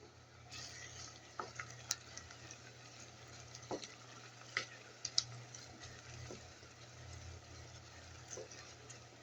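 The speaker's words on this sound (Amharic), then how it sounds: "ዘይት ሽንኩርቴን ጨምሬያለሁ።" Chopped onions fry in hot cooking oil in a pan, giving a faint, steady sizzle broken by scattered clicks and scrapes of stirring.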